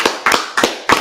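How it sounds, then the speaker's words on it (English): A few sharp hand claps, four distinct bursts in quick succession, ring out from a crowd at a religious gathering in Washington DC. "I think we're going to clap."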